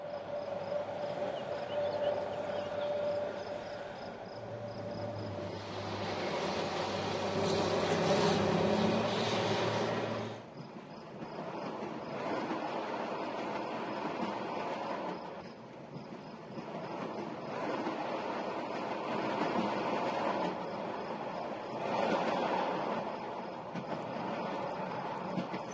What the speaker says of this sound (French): Et maintenant, laissons à nouveau les rails chanter.